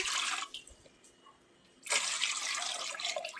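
Running water splashes loudly from a tap into a pot, stops briefly, then gushes again, with no voices.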